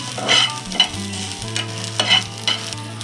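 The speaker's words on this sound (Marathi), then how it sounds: "साधारण 2 ते 3 मिनिटं असं परतून घ्यायचं आहे।" Spatula sautéing misal masala with onions in a pan, repeated scraping strokes and close sizzling in an uneven rhythm, with no voices.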